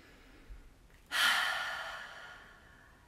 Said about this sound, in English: take like 3 breaths that inhales through the nose and then just an exhale sigh